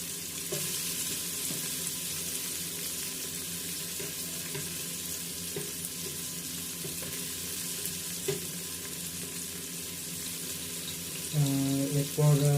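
Onion and cut potato frying in a pan for soya veg pulao, a steady, moderate sizzle with light stirring knocks, and a louder burst near the end.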